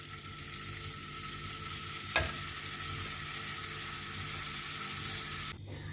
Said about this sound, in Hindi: और बाकी के भी गोला कबाब हम फ्राई कर लेंगे।